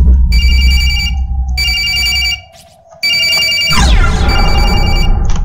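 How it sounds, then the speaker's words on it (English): A cell phone rings in the video game Corpse Party, a repeating electronic trill in bursts with a short pause, loud and close over a low droning ambient background with no talk. "Isn't that Naomi's cell phone?"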